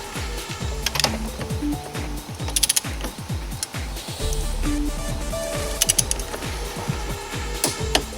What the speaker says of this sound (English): you've got to torque down your axle to 100 Newton meters